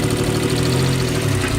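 A straight-piped, turbocharged BMW E36 engine runs steadily close by while its wastegate is being worked on, giving a loud, continuous low rumble with a rough, uneven texture and no talk.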